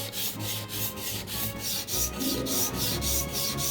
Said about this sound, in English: I move on to the 1000 grit whetstone.